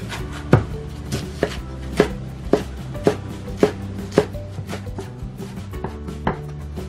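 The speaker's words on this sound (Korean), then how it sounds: "이제 잘게 잘게 썰어주시면 호박잎 준비는 다 끝났답니다" Pumpkin leaves, squeezed dry, finely chopped with a knife on a cutting board: a steady run of crisp, close knocks, roughly two per second, with no talk.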